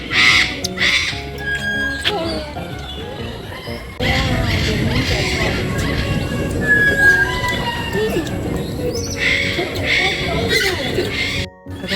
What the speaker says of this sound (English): She spotted this pink and white bird. I think it's a parrot.